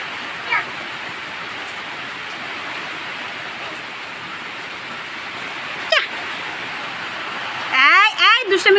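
Steady rain pouring on a rainy day in a Bangladeshi home setting, a continuous hiss throughout, with a few brief knocks and a short burst of voices near the end.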